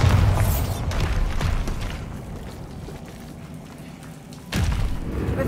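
Bombarda blasting spell in Hogwarts Legacy, a heavy booming explosion at the start with a rumbling tail, then a second deep thud later, loud and close with no talk over it.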